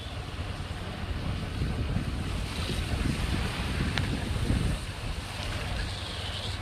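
Heavy rainstorm with water getting into a house, a dense steady roar of rain and wind-like rush filling the scene, loud and continuous throughout.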